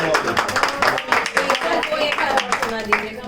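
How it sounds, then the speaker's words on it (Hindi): Loud clapping from an audience at a Hindi poetry gathering, dense and sustained across the whole stretch, with a voice speaking over it. "जोरदार तालियां।"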